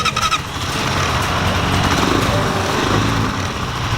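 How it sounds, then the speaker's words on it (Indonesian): The small motor of a new Viar Karya 300 L motorized rickshaw sputters to life and settles into a loud, steady idle close by. "Oke, ayo kita hidupkan mesinnya."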